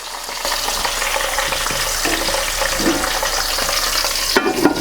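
Potato skins frying in a pan at a car camping site, a loud, steady sizzle close up, with a short clatter near the end as a couple of pieces are flipped.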